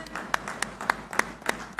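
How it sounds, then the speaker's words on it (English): An audience applauds at the groundbreaking ceremony for the Google Cloud India AI Hub in Visakhapatnam, heard as a loose rhythmic patter of claps, fairly close and moderately loud. "A huge round of applause, ladies and gentlemen"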